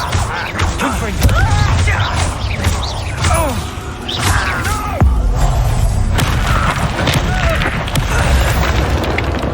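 A Confringo fire spell blasts in Hogwarts Legacy, landing as a loud booming explosion amid dense, busy combat effects, with sharp crashes and swooshes recurring across the stretch.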